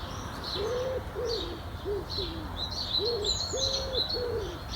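Outdoor birdsong with a pigeon cooing: repeated low, hollow coos in short phrases beneath thin, high chirps from other birds, set against steady background noise.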